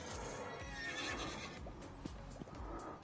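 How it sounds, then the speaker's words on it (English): A horse neighs loudly as a character jumps in the Roblox game Dead Rails, with a whinnying call and some clip-clop hoofbeats in a short burst. "The neighs every time you jump are a little obnoxious."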